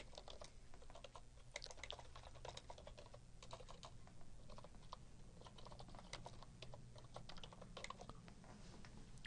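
Keys on a computer keyboard clatter in a quiet, steady stream of close typing taps, uneven in rhythm, with no speech.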